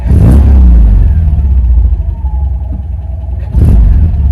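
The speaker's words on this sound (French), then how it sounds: "Là vous entendez tout de suite la sonorité de ce 4 cylindres" A 1969 MG B four-cylinder engine runs steadily up close, a loud low throb with brief revs at the start and again near the end, with no one talking.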